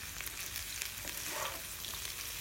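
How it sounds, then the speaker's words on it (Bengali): Cut potatoes fry in a pan with onion and boiled cauliflower, giving a steady, close sizzle that carries on unbroken with a faint stir partway through, and no talking. "আলু ভেজে নিচ্ছি পেঁয়াজের সঙ্গে।"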